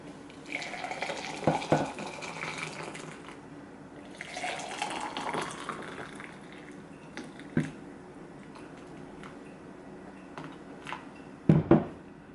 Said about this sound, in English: So, a bit more hot water, actually.